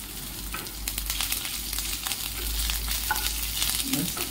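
Bay leaves sizzle and fry briefly in a pan of hot oil while being stirred, a close, continuous crackle with scraping stir sounds and no voices.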